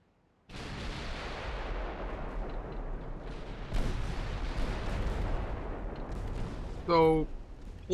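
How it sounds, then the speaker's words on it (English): Warships fire HE shells in the naval video game Ultimate Admiral Dreadnoughts: after a brief silence, a thundering barrage of booming shots rumbles on continuously with sharper blasts mid-way, and a short game tone sounds near the end. "those are their HE rounds that they're firing right now"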